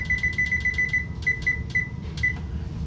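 Kitchen timer giving a rapid series of short electronic beeps while being set for cooking potatoes and broccoli, about a dozen clipped tones in quick bursts, close and clear over low room hum.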